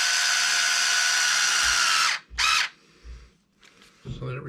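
Power driver tightening screws on a Traxxas 4-Tec 3.0 RC car body mount: a long steady whir for about two seconds, then a short second burst, close and loud, with faint handling noises after.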